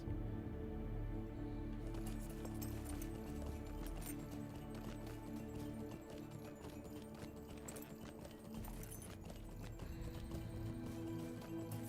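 Horse hooves clip-clop steadily in the Lord of the Rings Online video game, with a mount's rhythmic footfalls over game ambience and music, no talk.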